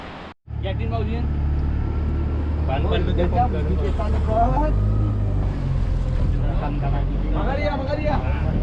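A boat heads out to sea, its low steady engine drone running throughout beneath several people talking and calling out, with wind and water noise around it.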